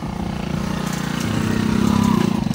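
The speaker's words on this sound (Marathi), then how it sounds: "हे मोटरसायकल सुद्धा वरती जाते." A motorcycle engine climbs a mountain road near Kalsubai peak, a close, buzzing putter that rises steadily in pitch and loudness as it revs.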